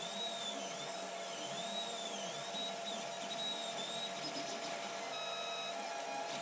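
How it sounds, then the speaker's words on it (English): A 3D printer runs steadily while printing a medium-sized part, a constant whirring hum with whining stepper motor tones that rise and fall as the head moves, close and unbroken with no talking. "you can see how much the printer is moving there"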